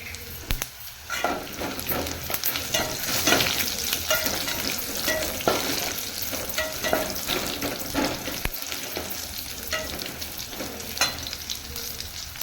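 Garlic, cumin, curry leaves and asafoetida sizzle in hot oil for a Tamil cowpea sambar tempering, a steady close crackling fry with occasional spoon stirs and no voices.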